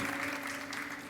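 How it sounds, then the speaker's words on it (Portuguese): Congregation applauding during a Catholic charismatic preaching event, a dense steady wash of many hands clapping at even loudness throughout, with a sustained musical tone underneath. "Aplaude direito."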